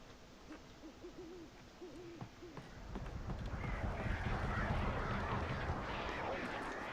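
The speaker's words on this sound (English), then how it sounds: "Oh, shush crows." In the video game Alan Wake, crows give a quick series of rhythmic harsh calls that fade into a louder rushing, rumbling background.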